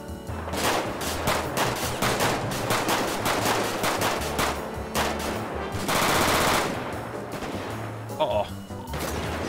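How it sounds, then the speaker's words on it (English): Video game gunfire in GTA 5: rapid automatic bursts and repeated shots rattle densely throughout, loud and close, with a sharp crashing burst partway through and a brief pause near the end. "We're getting shot at."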